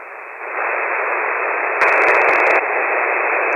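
A weak ham radio station sits right at the noise floor on a Kenwood transceiver, heard as a steady, loud band of static hiss with no clear voice, broken briefly by a crackly burst of interference.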